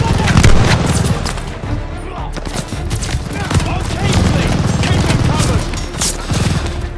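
Rapid machine gun bursts from a half-track in a war video game, dense, loud overlapping gunfire with voices shouting in the background.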